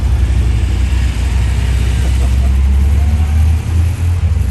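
A loud car engine runs close by with a heavy, rumbling low drone and slight shifts in revs throughout.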